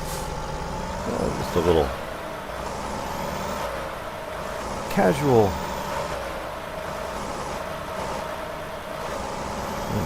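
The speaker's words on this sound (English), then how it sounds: "Let me get inside the truck. This is too loud." Truck engine in American Truck Simulator idles at a steady rumble, with two sharp air-brake hisses standing out several seconds apart while someone talks over it.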